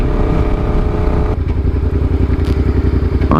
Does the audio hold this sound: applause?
no